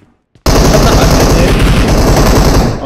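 Loud, rapid automatic gunfire in PUBG Mobile, a sustained burst of fast repeating shots that starts abruptly and runs without a break, very close and dominating the mix.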